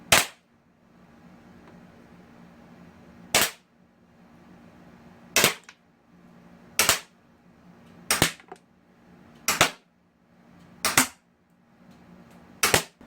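Shots from a Beretta Px4 Storm CO2 pistol fired at a target, eight sharp, snappy pops spaced roughly one to two seconds apart, with quiet in between.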